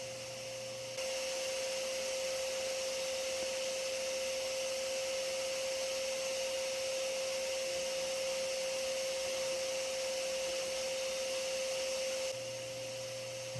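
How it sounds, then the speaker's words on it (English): Steady, loud drone of a vacuum running continuously with a strong tonal whine while sucking up yellow jacket wasps at a house nest removal, starting and ending abruptly, with no talking. "And now I can vacuum up a lot of the foragers that are coming back too."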